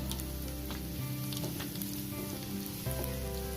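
Mustard seeds and cumin crackle and sizzle in hot oil up close, a dense continuous frying hiss with scattered popping and a little stirring.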